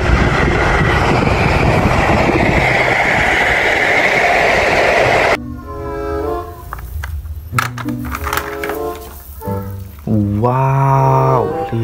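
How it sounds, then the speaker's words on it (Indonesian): A loud rushing rumble of a fast train roars past for several seconds, then cuts off, followed by other brief tonal sounds and effects. "Di sini ada kereta api cepat."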